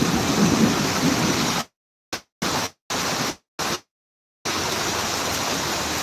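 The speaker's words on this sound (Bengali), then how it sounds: "প্রচুর বৃষ্টি হচ্ছে প্রচুর রাস্তা অলরেডি পানি জমে গিয়েছে" Heavy rain pours down in Dhaka near Gono Bhaban, with streets already flooding; a dense, steady hiss of downpour fills the air, broken several times by abrupt cuts to silence before the roar resumes.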